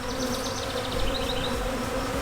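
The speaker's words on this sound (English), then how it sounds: "all these bees are going crazy" Honey bees buzz around an open hive during queen marking, a dense, close hum of many insects with individual bees droning past, alone without voices.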